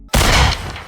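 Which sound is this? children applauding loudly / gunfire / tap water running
gunfire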